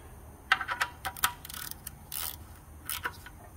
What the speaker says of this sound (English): put a little wrench on it, a little ratchet on it, and just make it snug